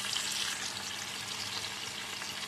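Tomatoes sizzle steadily in a hot frying pan with salt added, a close, continuous crackling hiss with no pauses and no voices.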